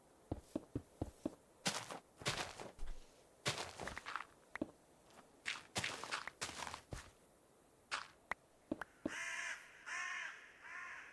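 Footsteps thud and click in a Minecraft world running the Craftoria modpack, then a crow caws a few times, close and fairly clear, near the end.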